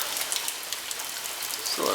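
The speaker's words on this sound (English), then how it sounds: "it's quite rainy." Steady rain pours down during Hurricane Harvey in Houston, a dense continuous hiss of drops hitting surfaces close by, with no talk over it.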